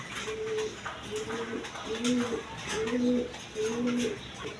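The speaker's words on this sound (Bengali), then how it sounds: "তাছাড়া হোয়াইট ড্যানিশ কবুতর নিতে পারবেন ডিম সহ" Several pigeons, including a White Danish breed, coo in repeated soft two-tone calls at a market stall, each phrase a second or so apart over a low background murmur of distant voices.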